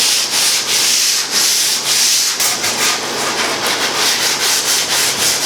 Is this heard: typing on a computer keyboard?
no